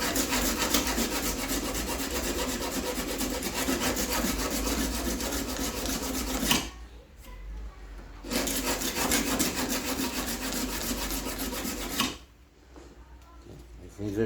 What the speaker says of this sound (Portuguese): E a lixa 36, ó, eu uso uma lima aqui embaixo.